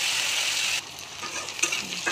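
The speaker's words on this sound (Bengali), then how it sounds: "আলুটা একটু লাল লাল করে ভেজে নিতে হবে।" Potatoes and chopped onion fry and get stirred in a kadai, a loud steady hiss that drops sharply after the first second and carries on with scraping and stirring, with no voice.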